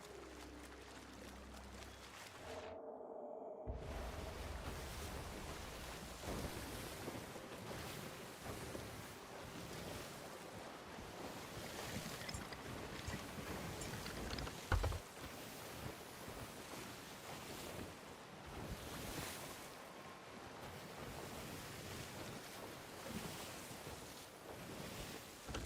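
Ocean waves surge and wash steadily in the pirate game Sea of Thieves, a continuous rolling surf with wind noise and occasional splashes, faint and without speech.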